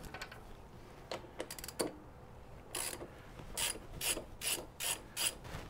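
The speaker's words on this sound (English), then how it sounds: "Take your T40 Torx bit, and that thing should thread in there relatively easily." A hand ratchet with a T40 Torx bit threads a bolt into a Harley-Davidson Softail rear wheel, giving rapid pawl clicks in short bursts that grow louder and more regular toward the end, with no talking.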